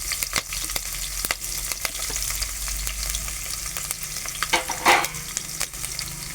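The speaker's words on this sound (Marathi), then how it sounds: "लसूण कढीपत्ता टाकतो मुलीला कांदा टाकतो" Onion sizzles in hot oil with garlic, curry leaves, cumin and mustard seeds for a capsicum dish, a close, steady crackle broken by sharp stirring clicks.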